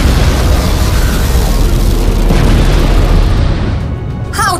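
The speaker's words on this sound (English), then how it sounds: "Have a taste of my hoversonic boom." A loud, sustained sci-fi sonic boom blast from a comedic superhero parody battle, a dense roaring rumble holding for about four seconds before tapering, with a brief rising whistle-like tone at the end.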